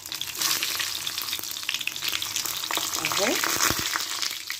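Eggplant pieces drop into a pan with a few spoonfuls of hot oil and sizzle and crackle steadily close by, with a brief word spoken over the frying.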